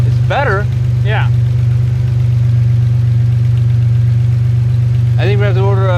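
A car engine with an idle fault runs unevenly, its steady low rumble carrying on throughout while people speak briefly at the start and again near the end.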